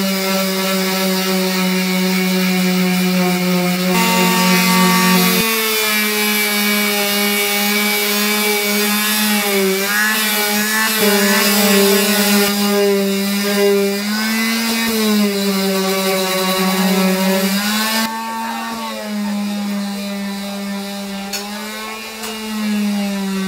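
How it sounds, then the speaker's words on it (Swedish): Power sanding on the dried surface of a Volvo 740 project car makes a continuous loud, droning whine whose pitch wavers and shifts throughout. "Nu ska vi försöka slipa ner det där för att se om vi får några fina släta ytor på det här"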